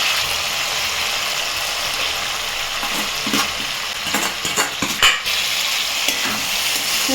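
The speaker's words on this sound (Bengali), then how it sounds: "ভালো করে ডালের সাথে মশলাটাকে মিশিয়ে নেবো" Lentils being stirred into a fried spice and tomato masala for dhaba-style tarka dal, with a steady close sizzle under a spoon scraping and clacking against the pot in irregular bursts.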